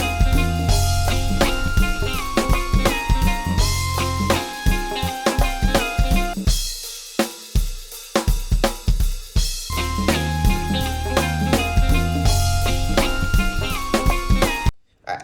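Processed drum mix playing back after drum bus treatment on a record being mixed, a dense full-band groove with steady punchy hits, a brief sparse break near the middle, then cutting off at the end.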